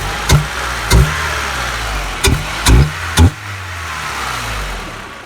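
A Honda B18C engine with cams and a velocity stack revs in five sharp blips, short bursts over a steady idle, loud and close.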